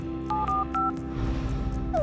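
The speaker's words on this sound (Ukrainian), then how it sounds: "О, мені телефонують." Phone call tone in a Toca Boca avatar-world game: a short series of clear electronic beeps in quick rhythm, followed by a rising chirp, over a steady background hum.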